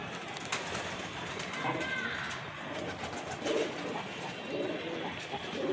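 Pigeons coo softly over a steady outdoor background, with occasional faint wing flaps.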